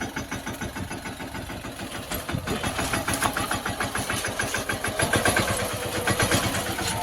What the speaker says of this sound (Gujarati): મામા લઈ જાય હવે અહીંયા ટ્રેક્ટર.